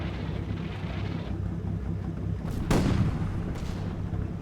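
Gunfire in the World War II wargame Combat Mission, set in Poland in 1945: one sharp, loud shot cracks out over a steady low rumble of battle ambience, with a fainter report following shortly after.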